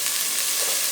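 Garlic and thyme fry in a hot frying pan, a loud, close, continuous hiss of crackling oil with no pauses and no voices.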